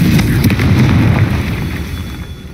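A Confringo fire-blast spell from the video game Hogwarts Legacy, heard as a loud, dense explosive burst that rumbles and slowly fades across the whole moment, with no talk over it.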